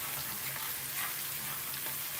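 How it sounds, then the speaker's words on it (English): Paneer butter masala curry with chilies sizzling in a pan, a steady close hiss of frying with no distinct stirring strokes and no talk. "I'm just going to add our chilies, any kind of chilies, okay? This is optional. Stir it a little bit."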